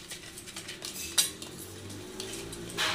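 A spoon mixes sour curd with mustard oil in a bowl, with soft clinks and scraping strokes, close and fairly quiet, and a couple of sharper metallic taps.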